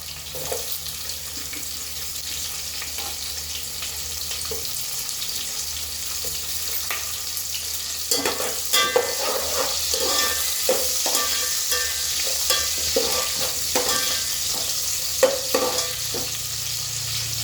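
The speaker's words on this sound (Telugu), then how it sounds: "ఇప్పుడు ఉల్లిపాయలు వేసేసుకుందాం" Chopped onions frying and sizzling in a hot pan while being stirred for a vegetable kichidi, a steady close sizzle with occasional scraping stir strokes and no talking.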